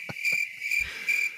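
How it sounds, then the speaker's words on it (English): Crickets chirping as a comedic sound effect, a continuous high, bright trill pulsing in short repeated bursts, close and alone, with a few low thumps underneath. "Crickets."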